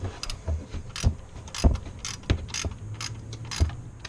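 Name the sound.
ratchet tightening down the hold down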